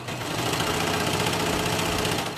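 A serger stitches and trims fabric for leggings, its motor running in a steady, dense, even whir throughout, close and loud.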